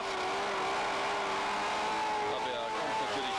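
A racing powerboat engine of the O-700 class runs steadily at a 1987 race heat after a delayed start, a continuous whining drone while a commentator talks over it.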